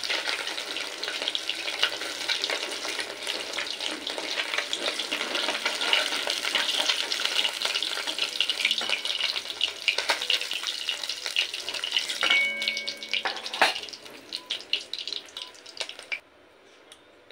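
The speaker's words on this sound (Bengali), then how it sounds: "তো দ্বিতীয় ব্যাচের মাছগুলোও ভাজা হয়ে গেছে" Bata fish fry in hot oil in a pan, a steady crackling sizzle with scattered pops and a few utensil clinks, close and moderately loud, tapering off toward the end.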